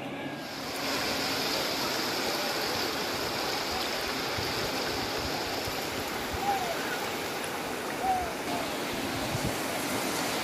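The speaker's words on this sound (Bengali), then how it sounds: "ঠান্ডা ঠান্ডা হাওয়া দিচ্ছে আর এরকম সমুদ্রের ঢেউ" Sea waves roll onto the beach at Digha in the evening breeze, a steady, wide wash of surf that stays even throughout with no voices.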